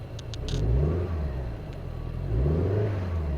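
A turbocharged Suzuki GT85 engine idles cold at about 900 RPM, a loud, steady low rumble with a slight swell in pitch, close by and with no talk over it.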